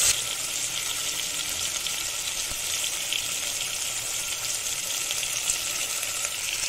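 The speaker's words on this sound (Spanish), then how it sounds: "Mientras este pollo lo tengo sellando" Chicken sears in a little hot oil in a pot for chicken soup, giving a steady, close, even sizzle that holds without a break and has no talking.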